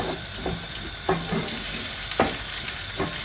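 Food sizzles and fries in a pan while being stirred and sautéed, with steady crackling and a few sharp scraping stirs of a utensil, close and fairly quiet, no talking.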